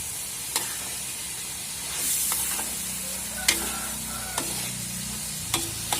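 Squid and shrimp stirred in a frying pan for spicy Aceh-style sambal, with a steady sizzle and scattered scrapes and clinks of the utensil against the pan.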